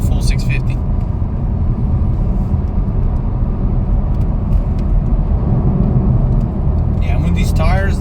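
A 650-horsepower 991-generation Porsche Turbo driven in sport mode on Michelin 4S tires gives a steady, dense, low engine and road rumble from inside the car, with a voice talking briefly near the end.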